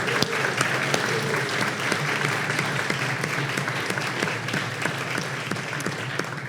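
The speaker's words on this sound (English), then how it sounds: "Let's give our students a round of applause tonight." Steady applause fills a hall at a college Founders Day as the crowd claps for students, a continuous, moderately loud patter of many hands with no voices standing out.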